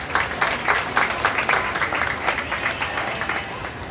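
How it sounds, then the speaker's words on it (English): Crowd at a county fair junior sheep show claps for an exhibitor presenting a ewe, a loud, steady round of applause from many hands close by. "I think we need to give Paul a nice round of applause for presenting Reba the way he's done here today."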